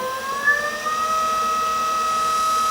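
A Laguna Revo 1524 lathe motor running steadily in low gear near 650 RPM, a close, even whine with strong sustained tones and a small pitch shift at the start.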